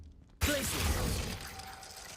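Glacius ice spell from Hogwarts Legacy gameplay: a sudden icy burst with a crackling, shattering texture that hisses out and fades over about two seconds.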